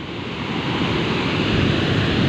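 Steady roaring typhoon wind with a dense rushing wash of heavy rain, loud and continuous throughout with no pauses.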